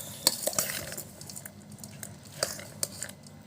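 Masala bhel puri being tossed in a bowl with a spoon, dry puffed rice rustling softly while the spoon clinks against the bowl in scattered light taps.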